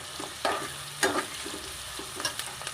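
Onions frying in oil in a pressure cooker for vegetable pulao, a steady close sizzle broken by a few sharp scrapes and stirring clinks.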